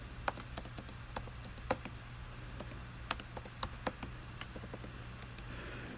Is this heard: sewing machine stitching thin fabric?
no